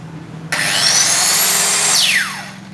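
An electric saw with its original cord and a yellow light switches on sharply and runs with a loud, steady high whine for over a second, then spins down with a falling pitch as it stops.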